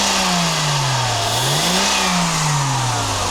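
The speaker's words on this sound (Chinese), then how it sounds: "我们来做一个提速。" A Mercedes-Benz W126 300SE engine is revved during a workshop test after repair of a faulty fuel distributor. It is loud and close, the pitch rising and falling through one swell before settling into a steady, smooth run.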